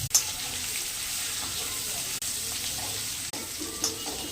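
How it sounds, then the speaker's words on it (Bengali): Dried chillies, radhuni seeds, bay leaf and chopped ginger sizzling in hot oil for a bitter gourd mung dal, a steady close crackling fry with brief pauses and faint stirring. "এখানটায় দুটো শুকনো লঙ্কা দিয়ে একটু রাঁধুনি ফোড়ন দিলাম, একটু তেজপাতা দিলাম, একটু আদা কুচিয়ে রেখেছিলাম"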